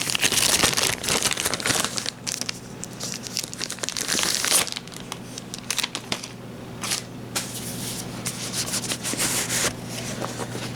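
Packing tape peeled and ripped off the plastic wrap of an anime DVD case for Erased Volume 2, with close crinkling, scraping and tearing noises in bursts throughout, loudest at the start.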